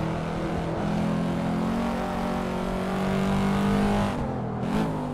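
A race car engine in Assetto Corsa drones loud and steady, its pitch rising and shifting as the driver accelerates, then dipping sharply near the end as gears change.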